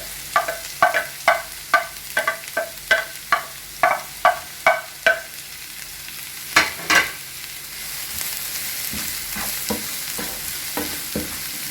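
Onions and curry leaves sautéing in hot oil for eggplant chutney, with a rapid, regular run of spoon scrapes against the pan over a constant sizzle, then a few sparser stirs as it continues.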